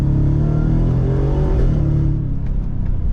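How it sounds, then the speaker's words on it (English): A supercharged V8 in a 2023 Ford F-150 Raptor R revs loud and close through its exhaust in manual mode, a deep steady rumble with rising and falling engine tones and no talking. "it's a brilliant sounding V8"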